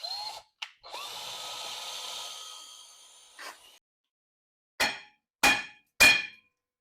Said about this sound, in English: Let's go ahead and drill these out.